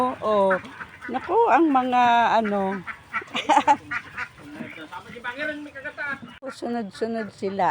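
Domestic ducks crowd together and quack at feeding time on a farm, repeated nasal calls overlapping close by while people talk over them.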